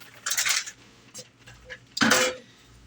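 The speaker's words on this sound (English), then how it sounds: "In goes the meatballs" Meatballs dropped into a stew pot, making two distinct bursts of clattering and thudding against the pot about two seconds apart, with faint handling noises in between.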